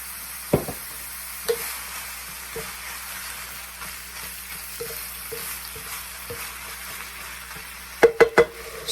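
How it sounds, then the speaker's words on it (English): Garlic and salsa cook in a pan with a soft, steady sizzle, punctuated by a few light utensil knocks and a quick cluster of clattering stirs near the end. "You want to let the garlic cook down a little bit."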